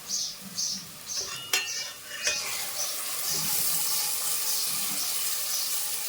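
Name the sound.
chicken curry masala frying and being stirred in pan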